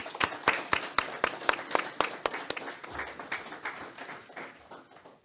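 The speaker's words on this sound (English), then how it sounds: "So just want to give her a round of applause" Applause at a retirement ceremony honoring Rev. Judy Tomlinson: sharp, distinct claps from a small gathering in a steady rhythm that grows more scattered and quieter as it tapers off.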